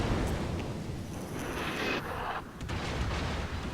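Battleship gunfire in the naval game World of Warships, a dense continuous roar of heavy cannon blasts and rumbling explosions filling the whole stretch, loud and close, with no clear pauses.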